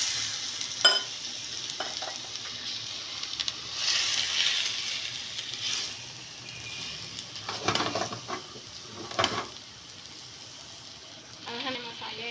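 Marinated chicken added to golden brown frying onions, sizzling in the pan with repeated stirring scrapes and soft bursts of frying.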